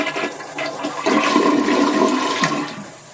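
A toilet flushes in one sustained, rushing gush of water that swells after a second, holds steady, then drains away and fades, close and fairly loud with no talking.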